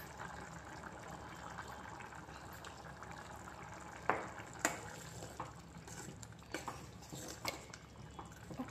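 Coconut dal simmers in a pot with a quiet, low bubbling, sparse soft pops and plops rising more often in the second half, faint and close with no voices.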